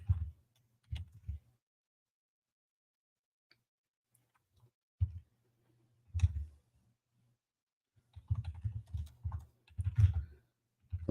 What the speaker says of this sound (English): Typing in the terminal.